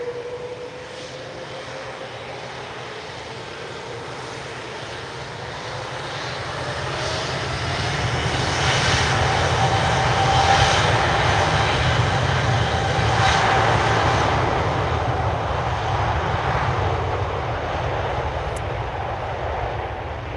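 A Bombardier CRJ 900 jet airliner at Lisbon Airport on a cloudy, windy evening gives a distant engine roar that swells louder toward the middle and eases slightly, with a steady whine and wind noise and no voices.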